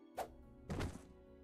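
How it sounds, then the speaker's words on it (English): A bag drops with a light thud in the visual novel game Tsukihime Remake, two soft muffled knocks close together, brief and quiet, with no talk. "A black object lands in front of me with a light thud."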